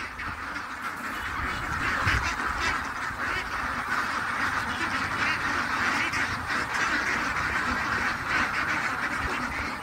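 A flock of ducks quacks and clamours nonstop while being fed palay, a dense, loud, overlapping chorus of calls that stays steady throughout.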